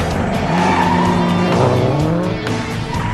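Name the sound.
rally car driving and skidding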